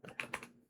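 Code typed on a computer keyboard: a few quick, soft key clicks in close succession, near and faint with no talking.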